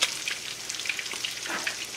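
A sirloin steak sizzling in hot oil in a frying pan, a soft continuous crackle and hiss with small pops, fairly quiet and close, no talking.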